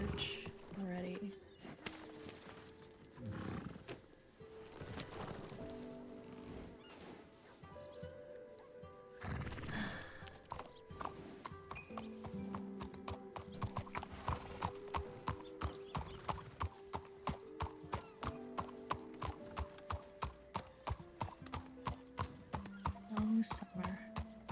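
Horses in a ranch roleplay video game clip-clop in a steady rhythm that quickens and grows louder, with occasional whinnies, over background music and brief talk.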